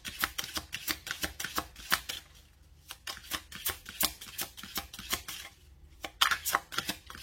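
Oracle cards shuffled in quick, repeated riffling bursts with brief pauses between, close and crisp, during a tarot-style reading; no talking.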